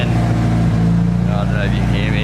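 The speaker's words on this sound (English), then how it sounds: "Yeah, I just gave it some revs and it's still sort of almost stalling when I back off" Nissan S14 with an SR20 engine revving, a steady loud engine drone with strong low harmonics throughout, pitch wavering slightly as the revs rise and fall, with a voice talking over it near the end.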